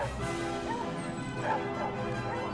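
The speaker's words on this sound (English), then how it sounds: "Hearing the loud barking of the hunting dogs" Hunting dogs bark and yelp at dusk in grassland during a wild boar hunt, several rising yips and whimpers overlapping at mid distance against a steady outdoor background.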